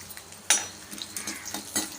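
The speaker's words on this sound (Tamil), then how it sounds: "வேர்க்கடலை நல்லா வறுபட்டு வரட்டும்" Soft crackling and light sizzling of peanuts roasting in oil, with a sharp scrape of a utensil stirring the pan, close up and steady.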